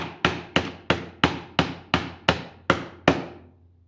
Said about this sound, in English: Should be using a hammer,